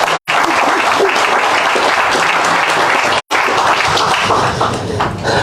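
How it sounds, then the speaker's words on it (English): Sustained audience applause at an outdoor groundbreaking ceremony for a mycelium factory in Union, South Carolina, dense and loud, briefly cut silent twice. "Everybody give her a round of applause."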